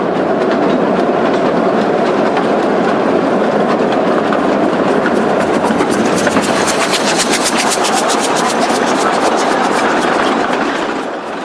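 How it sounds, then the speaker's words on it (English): Locomotives in China haul cement wagons, the steady clickety-clack of wheels over rail joints rolling loud and close throughout, with a heavy engine rumble underneath. "After a run round, the locos head back to the cement works tender first."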